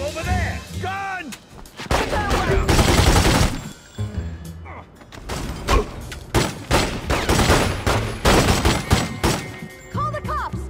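Gunfire in The Godfather 2 video game: repeated loud bursts of shots and volleys, close and dense, with brief voice-like tones at the start and end.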